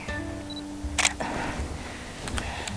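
A single-lens reflex camera shutter fires for an ambient exposure in late-afternoon light outdoors near water, giving a brief, crisp mechanical click or two over steady low background hum.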